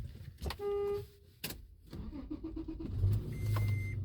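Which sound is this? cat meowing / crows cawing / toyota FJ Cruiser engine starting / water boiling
toyota FJ Cruiser engine starting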